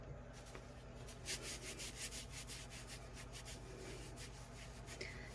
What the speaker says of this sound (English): I'm gonna grab a baby wipe and clean my arm off quick.